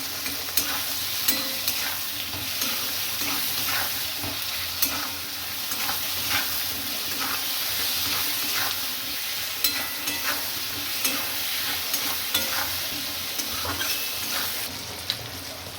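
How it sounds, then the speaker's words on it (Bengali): Tomato pieces frying and being stirred in a pan with salt, a steady bright sizzle with scraping stir sounds throughout, close and continuous, with no talking. "এবার আমি টমেটোটা দিয়ে দিচ্ছি।"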